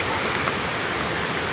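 Waterfall at Mahad during the rainy season, running with somewhat reduced flow, gives a steady broadband rush of water, close and continuous throughout with no pauses or talk.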